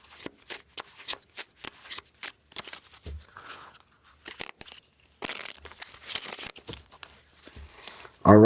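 Tarot cards riffled and shuffled by hand in a run of quick papery flutters and crisp snaps, close and moderately loud, with short pauses between bursts.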